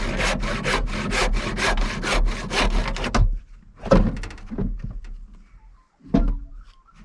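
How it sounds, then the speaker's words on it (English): A small, sharp Stanley hand saw cutting through hardwood, with about a dozen quick, rhythmic rasping strokes up close, then a pause and a few slower, scattered strokes and scrapes. "Little Stanley, very sharp. Cuts through this hardwood really well."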